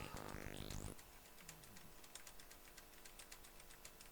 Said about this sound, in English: They can listen to me smashing the keyboard here